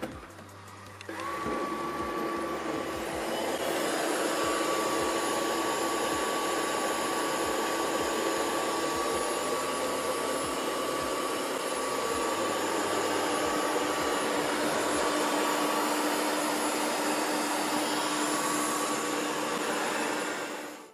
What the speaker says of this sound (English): let me show you how to start the cleaner with the top touch controls